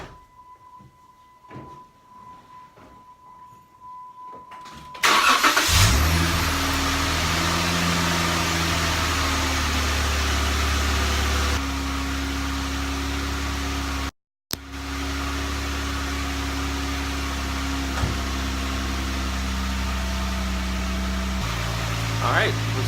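A 2013 Jeep JK Rubicon at 100,000 miles cranks and fires after maintenance, then settles into a loud, steady idle that runs on continuously with one brief dropout, after a quiet stretch of faint talk before the start.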